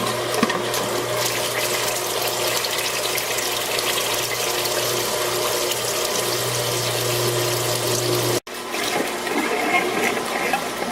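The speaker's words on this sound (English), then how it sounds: "hitting from your oil out switch from off to on, return all the filtered oil from the tank back to the fryer" A fryer filter pump returns filtered oil from the tank back to the fryer, a steady close-up hum over a continuous rushing, gurgling flow of liquid, briefly cut by a sharp click near the end.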